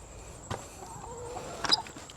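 Chickens in a coop cluck softly in the background, with a couple of brief louder clucks and faint rustling nearby.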